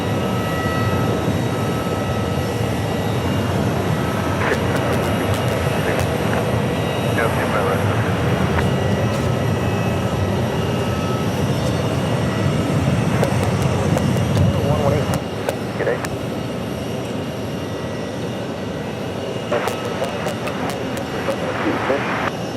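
An American Airlines Airbus A321 arrives at Phoenix Sky Harbor Airport with a steady, broad jet engine roar that swells and then eases, while a voice talks over it.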